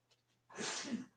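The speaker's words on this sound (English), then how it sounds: "My son sneezed in the other room." A single faint sneeze from a child in another room, a short breathy burst heard from a distance.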